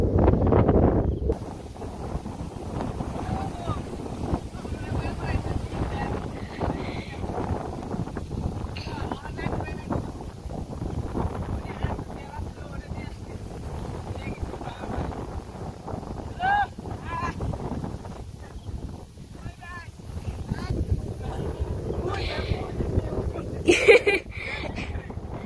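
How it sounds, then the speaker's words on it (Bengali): Strong wind sweeps over water in a rural village, a steady low rumble buffeting the microphone with gusts rising and falling, while voices talk intermittently. "আর যে বাতাস আজকে কি বলবো, বাতাসের কথা, খুব বাতাস আজকে।"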